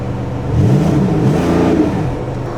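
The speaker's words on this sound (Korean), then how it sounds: "사운드 괜찮네요. 하이브리드라서 상당히 걱정했는데, 하이브리드지만 예전 포르쉐 느낌이 오히려 더 많이 납니다." A Porsche 911 GTS hybrid in sport mode revs once, its engine note rising and sweeping to a peak before settling back to a steady idle, loud and close with no talking.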